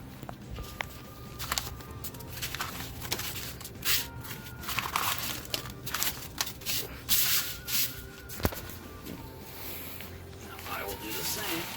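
Paper envelopes being shuffled and mixed by hand for a fantasy football draft lottery, a continuous close rustling and sliding of paper with scattered sharper taps and crinkles, voices talking throughout.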